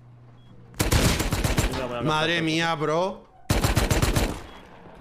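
Bursts of rapid automatic gunfire in the survival game Rust come in two loud, close volleys, and someone speaks Spanish in the gap between them.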